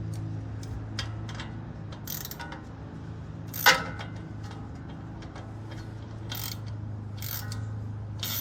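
A ratchet tightens a bolt on the front suspension of a 2004 Dodge Ram during ball joint and tie rod work, with quick clicking bursts, one sharp metallic clank and a steady low hum beneath, close by.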